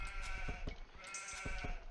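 Sheep bleat repeatedly in the Age of Empires strategy game, several short in-game bleats over a steady game background, with no speech.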